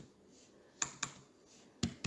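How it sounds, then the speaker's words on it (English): A handful of faint, close keystrokes on a computer keyboard, several sharp clicks spaced unevenly in a quiet room. "we go on Google and type like download"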